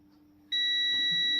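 A multimeter on continuity mode beeps while its probes test a mobile phone coil, a steady high-pitched electronic tone starting abruptly and holding loud and close.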